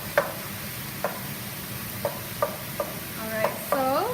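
Beef sizzling steadily in a pan with a constant frying hiss, punctuated by periodic light taps and scrapes of a utensil stirring, close and fairly loud, without talking.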